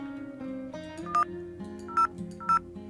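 Touch-tone keypad beeps sound as a VoIP office phone dials internal extension 1002, three short clear DTMF tones spaced apart over a soft melodic background.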